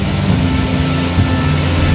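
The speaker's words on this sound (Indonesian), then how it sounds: "Kedua pesawat ini lepas landas dari Lanut Halim Perdana Kusuma, Jakarta" Two military aircraft taking off from Halim Perdana Kusuma airbase in Jakarta, a loud steady engine drone with a low throbbing hum, close and unbroken for the whole moment.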